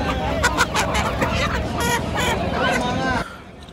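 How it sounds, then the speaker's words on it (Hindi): Chickens and roosters cluck and squawk loudly nearby amid a busy crowd babble at a Sunday bird market in Ahmedabad, then the sound cuts off abruptly. "ये पूरी मुर्गा मंडी है दोस्तों,"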